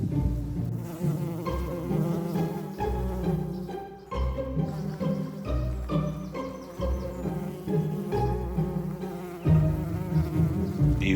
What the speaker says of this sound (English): Be very careful around the campground if bees are around.